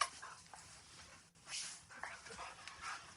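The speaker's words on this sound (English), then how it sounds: "I have two dogs fighting right behind me." Two dogs fighting in a room behind someone, with growling, whimpering and yipping in short scuffling bursts, fairly close but moderate in level, with faint talk mixed in.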